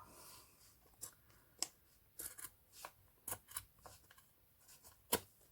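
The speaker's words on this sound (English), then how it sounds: "any that stands up over your scissors you can cut like that" Scissors snipping ribbon while making a triple-layer hair bow: a series of soft, sharp close-up clicks and snips at irregular intervals in a quiet room.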